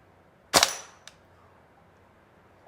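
A Tokyo Marui AKM gas blowback airsoft rifle fires a single semi-automatic shot, a loud sharp crack with a short metallic bolt clatter, followed by a faint click and then quiet.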